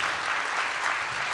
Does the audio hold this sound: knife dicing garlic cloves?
no